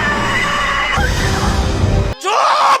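A woman's loud, drawn-out scream in a Doctor Strange in the Multiverse of Madness scene as a portal opens, followed by a booming rumble, a brief drop, and a sweeping whooshing burst.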